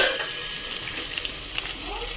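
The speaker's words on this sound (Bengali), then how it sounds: "তেল দিয়ে এই কেটে রাখা আলু দিয়ে দিলাম। আলুটা ভেজে ফিরছি।" Potatoes fry in hot oil in a pan, giving a steady, faint sizzle and crackle with a few small pops, heard alone.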